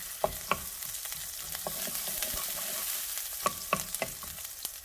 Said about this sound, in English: I'm going to saute the onion first